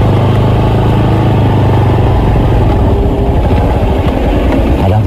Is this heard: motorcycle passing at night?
yes